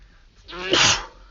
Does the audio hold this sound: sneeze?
yes